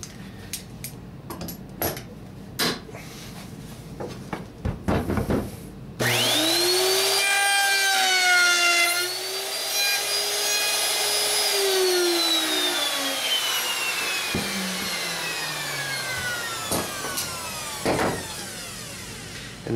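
A hand saw cuts a 3/8 by 1 inch notch into the end of wooden beehive frame stock, preceded by scattered knocks and handling noises, then a sustained loud rasping that sweeps in pitch and slowly fades.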